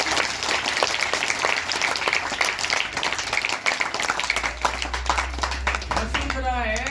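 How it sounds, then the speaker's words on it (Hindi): Loud, dense applause from the audience at an honour ceremony for an international boxer, sustained clapping that fades near the end as a voice begins speaking. "जोरदार तालियां।"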